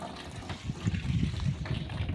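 Flowing water makes a faint, continuous gurgling trickle with small uneven surges, heard up close and quiet, with no talking.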